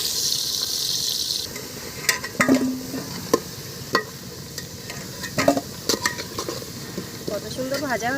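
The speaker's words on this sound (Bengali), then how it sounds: "তেল গরম হয়ে গেছে, খুন্তি করে অল্প হলুদ দিয়ে দিচ্ছি, দিয়ে এখন আমি আলুগুলো তুলে দেবো" Turmeric and potatoes go into hot oil in a pan for Basanti pulao, giving a steady loud sizzle of frying with scattered clinks and scrapes from a spatula stirring against the pan.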